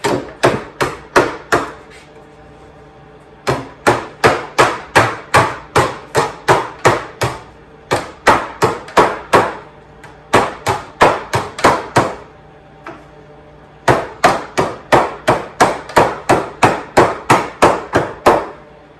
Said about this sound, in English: Hammer, it looks like that. I can go through and tap.